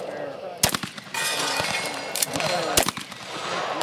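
Gunshots ring out at a cowboy action shooting match, several sharp reports spaced irregularly across a few seconds over outdoor ambience and some background voices.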